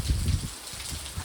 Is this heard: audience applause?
no